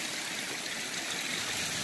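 Water flows over backyard waterfall rocks and river stone in a steady, continuous rushing wash, close and even throughout with no voices.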